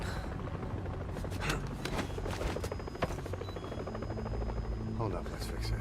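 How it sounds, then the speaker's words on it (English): Helicopter in the video game Metal Gear Solid V, a continuous rotor chop mixed with sharp bursts of gunfire and impacts, fairly loud and busy throughout. "Helicopter, my favorite thing."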